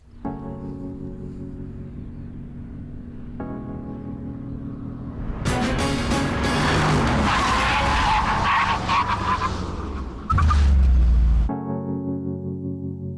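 A McLaren SLR braking hard from about 120 mph, a loud, rushing skid and tire roar building over several seconds before a heavy low rumble as the car settles, with no talking.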